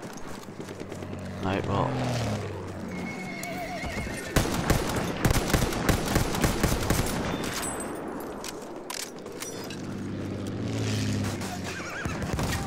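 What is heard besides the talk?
horse galloping and neighing in video game Battlefield 1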